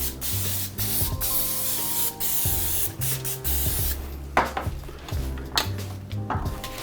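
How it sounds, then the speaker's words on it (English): Pan spray hisses onto a wire rack set in a sheet pan. Several short, close spray bursts alternate with brief pauses and light metallic clinks. "I've got some pan spray, and I'm going to spray the rack."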